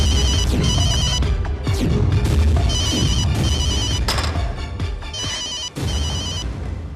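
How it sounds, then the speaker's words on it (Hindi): A telephone rings in a repeating electronic ringtone pattern, loud and close over a steady music-like background, with brief pauses between bursts and no speech. "आप अपना फोन क्यों नहीं उठा रहे?"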